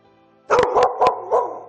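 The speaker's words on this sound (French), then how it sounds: "Elle peut aboyer sur commande si je suis en danger." A dog barks on command, four quick loud barks close by in an even rhythm after a brief quiet moment.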